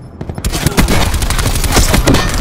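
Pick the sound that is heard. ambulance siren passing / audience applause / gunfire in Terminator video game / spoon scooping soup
gunfire in Terminator video game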